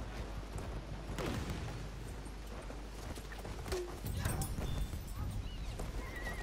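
Horse hooves clip-clop at a gallop in a war video game, rhythmic thuds mixed into loud, busy battle noise with scattered gunfire.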